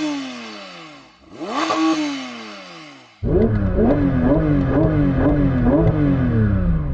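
A Porsche GT3 RS engine held on the brake in drive: one loud rev sweeps up and falls away, then the engine roars at high revs with rapid pulsing surges, close and unbroken.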